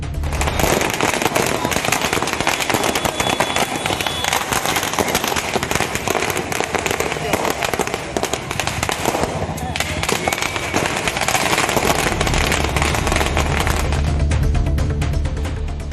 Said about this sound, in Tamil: ரசிகர்கள் சிலர் பட்டாசு வெடித்து கொண்டாட்டத்தில் ஈடுபட்டனர்